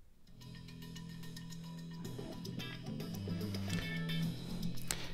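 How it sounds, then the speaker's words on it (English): Song from an online audio library playing through a tiny Bluetooth transmitter and receiver, heard quietly with a drum beat and bass line setting in after a short intro, thin and somewhat distant. "then I can go into my music playback app and I can play a song"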